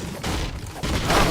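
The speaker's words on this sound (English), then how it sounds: "I hear gunfire, bro." Video game gunfire in bursts, a muffled rattle of distant shots and booms forming a steady loud backdrop with no voices.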